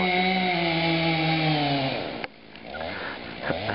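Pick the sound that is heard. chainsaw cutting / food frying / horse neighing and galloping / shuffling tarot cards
chainsaw cutting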